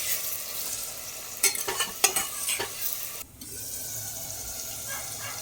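Ginger garlic paste sautéing with softened tomatoes for a mutton gravy, a quiet frying hiss with a burst of quick spoon scrapes and clatter in the middle, close by and without speech.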